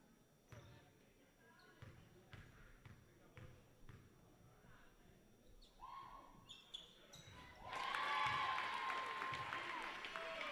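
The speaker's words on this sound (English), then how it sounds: "We'll get a nice round of applause from everyone here at Doane Academy" Crowd in a school gym at a boys' prep basketball final applauds, swelling into loud sustained clapping after several seconds of ball bounces and footsteps on the court, with a voice talking over it.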